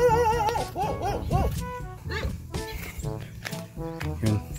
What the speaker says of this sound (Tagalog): May lumalapit ng aso sa akin.